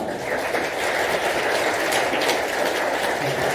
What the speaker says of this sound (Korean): 박수로 맞이해 주시길 바랍니다